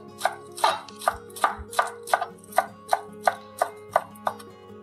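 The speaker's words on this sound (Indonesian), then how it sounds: "Lalu untuk daun seledrinya kita iris halus seperti ini." A knife finely slices celery leaves on a board, about a dozen crisp, evenly spaced cuts in a steady rhythm, close and clear with no talking.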